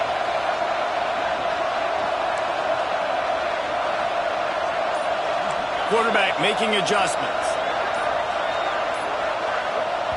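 Steady stadium crowd roar fills a College Football 26 video game broadcast, a constant loud wash with a brief swell of louder cheering midway, while a commentator talks over it.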